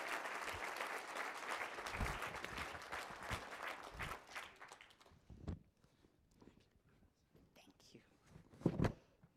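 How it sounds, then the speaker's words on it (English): Applause from a dinner audience for a guest speaker at an annual forecast dinner, faint and distant clapping that thins out after a few seconds into scattered claps, soft murmuring and shuffling. "How about a round of applause for Professor"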